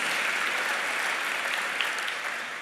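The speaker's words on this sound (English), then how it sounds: "please give Air Products a round of applause" Audience applause at a city mayor's State of the City address, a dense, steady wash of clapping from a large crowd that holds evenly and tapers slightly at the end, with no talk over it.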